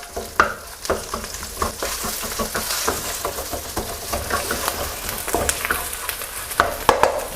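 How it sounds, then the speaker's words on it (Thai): Red curry paste is stir-fried in hot vegetable oil, a steady crackling sizzle broken by repeated scraping strokes of a spatula against the pan, close and fairly loud. "พอน้ำมันร้อนแล้วใส่พริกแกงเผ็ดลงไป 3 ช้อนโต๊ะครับ ผัดพริกแกงให้มีกลิ่นหอมเลยนะครับ"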